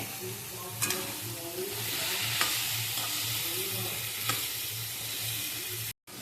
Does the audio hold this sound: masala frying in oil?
yes